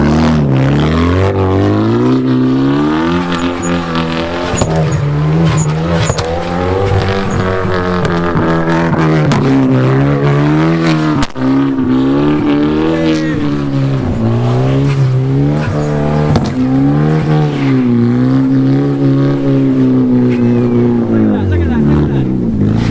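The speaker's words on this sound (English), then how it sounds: "So we're out here, we're drifting, we got the Genesis" A Hyundai Genesis Coupe drifting in snow holds a loud, sustained engine note that rises and falls steadily as it revs through the slides, close and continuous for the whole stretch.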